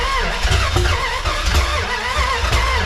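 A 1981 Dodge D150 pickup truck engine cranks, then catches and runs roughly up close. The sound is loud, with uneven rhythmic pulses and no voice.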